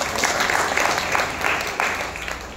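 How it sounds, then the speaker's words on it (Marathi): Audience applause ringing out at a devotional Harinam week gathering at a Varkari education institute in Alandi, a dense, steady wash of many hands clapping together for about three seconds, fairly loud and close. "आप्पांसाठी सगळे जण जोरात टाळ्या वाजवा"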